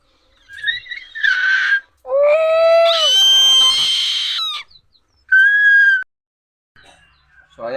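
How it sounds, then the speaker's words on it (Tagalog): A trapped bird of unknown species gives loud, shrill, wavering calls in several separate bursts with short gaps between them, close to the listener. "kung anong klaseng ibon yan"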